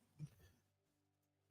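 A single short cough bursts out at the end after near silence on a sports talk radio show, preceded by a faint low throaty sound.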